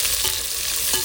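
Onions frying in a pan with cinnamon, cloves and cardamom for prawn biryani give a steady, dense sizzle, with a faint stir near the end and no voices.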